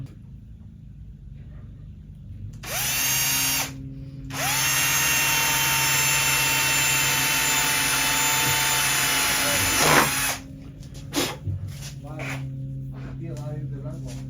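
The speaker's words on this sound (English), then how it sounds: "I used my 3/8 inch brad point bit, and I'm drilling some of these plugs out" A power drill with a 3/8-inch brad point bit whines steadily for several seconds drilling out wooden plugs on outdoor loveseat furniture, pausing briefly and restarting, then winds down as a voice speaks over quieter background.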